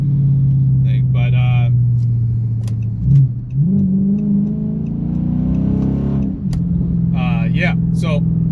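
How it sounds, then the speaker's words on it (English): A Dodge car on a test drive after a wheel speed sensor replacement, with traction control and ABS deleted; a steady mid-low engine drone changing pitch as it accelerates, with someone talking over it and a bump partway through. "So I'm just giving a little bit of a drive around."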